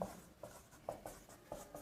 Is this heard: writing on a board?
yes